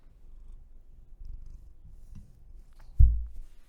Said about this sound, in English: Because my cat wants to say hi.